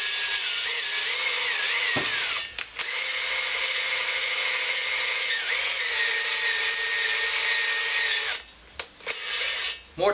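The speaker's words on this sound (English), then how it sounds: "I use a drill," A power drill spins a honing tool inside a Honda CX500 engine cylinder sleeve, giving a loud, steady whine that wavers slightly in pitch and cuts out briefly a few times near the start and near the end.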